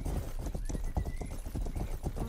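Horse hooves galloping in the Red Dead Redemption video game: a steady, rapid, even drumming of hoofbeats, close and continuous, with a faint neigh-like tone partway through.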